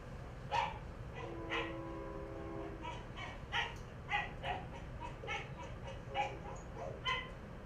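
A dog gives a series of excited, high-pitched barks and yips at uneven intervals, fairly faint, with a whining tone between some barks.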